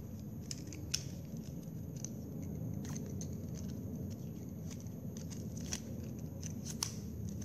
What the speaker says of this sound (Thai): ใช้ปลายกรรไกรนะคะดัดให้มันงอๆหน่อยค่ะ